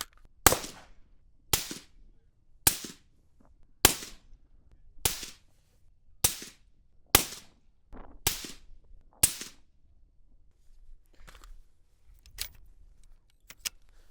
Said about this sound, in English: We're going to shoot 3 rounds just so you can hear the suppressor